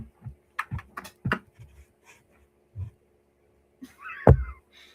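A close cat gives a single short meow near the end, after scattered soft thumps and rustling in an otherwise quiet room.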